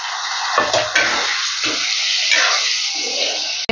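Potato pieces tipped into hot oil with cumin seeds on a high gas flame, giving a bright hissing sizzle that swells and fades with a few soft clatters, close and without talk.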